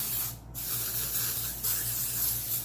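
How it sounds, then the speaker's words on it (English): Surf's Up texture spray hisses onto hair in a couple of quick, soft bursts from an aerosol can, close and fairly quiet, with a brief gap between sprays. "I'm going to take some of my Even Eye Surf's Up Texture Spray and just a little bit,"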